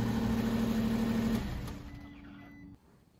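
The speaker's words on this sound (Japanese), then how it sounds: "エンジンかけてしまうとエンジン音でかき消されてしまうので" A kei camper van engine idles steadily with a low hum, then the level drops as it seems to wind down, leaving a quieter tail.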